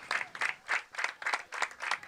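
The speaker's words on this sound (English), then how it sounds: "Brody getting a round of applause" Fans at a high school football game applauding, a steady burst of clapping with regular rhythmic pulses, heard from a moderate distance with no talk over it.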